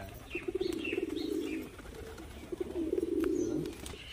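Tumbler pigeons at a home loft coo in two deep, throaty bouts, with faint chirps and light wing flutters around them, close by and without speech.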